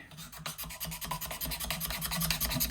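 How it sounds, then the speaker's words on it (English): Steady, rhythmic rasping of a file or scraper worn down over the frets during fret levelling on a Yamaha FG300 acoustic guitar, close and continuous with repeated strokes and no talk. "just going to do a little tiny bit more scraping"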